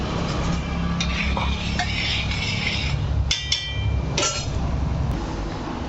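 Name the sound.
stirring ginger garlic paste in cooking pot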